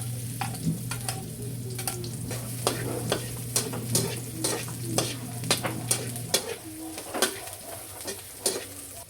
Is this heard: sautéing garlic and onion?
yes